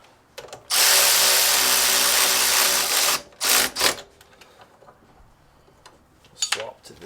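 A 14 mm socket on a power tool snugging down shock bushing bolts on a Kawasaki Brute Force 750 ATV, one loud whirring burst of about two and a half seconds followed by shorter clicks and clanks.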